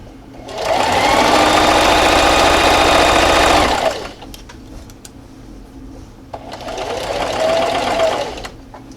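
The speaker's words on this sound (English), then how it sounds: "And then just keep sewing." A sewing machine stitches the seam of a fabric dust mask in two loud, fast-running bursts, the first about three seconds long and the second shorter, with a quiet pause and faint clicks between them.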